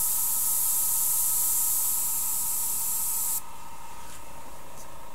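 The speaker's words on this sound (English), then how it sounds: "So spray, just air, no paint." An airbrush fed by a compressor sprays only air with no paint, giving a steady, loud hiss that cuts off abruptly partway through, leaving faint residual air noise.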